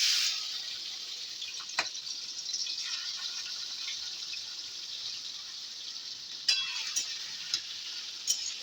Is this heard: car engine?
no